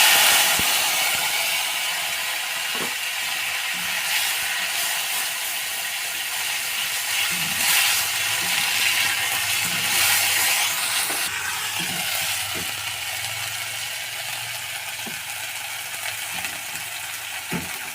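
Black cumin seeds followed by mustard and chili paste frying in hot oil for a Bengali drumstick chorchori: a steady, close, crackling sizzle with occasional clicks of a spatula stirring, continuous throughout with no talking.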